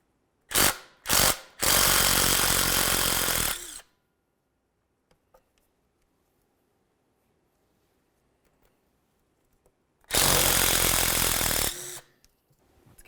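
A power ratchet or impact tool backs out 10 mm bolts from the water pump on a 2009-2020 Dodge Journey: two quick buzzing bursts, a longer whirring run, a quiet pause with faint clinks, then another loud sustained burst.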